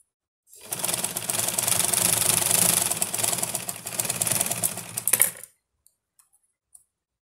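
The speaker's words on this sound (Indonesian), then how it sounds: "Lalu kita jahit tindas lagi dari atas di bagian kiri dan bagian kanannya." A sewing machine stitches a seam along fabric for overall garments, a steady close rapid whirring run lasting about five seconds before stopping, followed by a few faint clicks.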